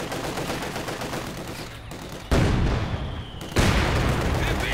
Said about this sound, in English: Mortar rounds actually connect there with the T-34.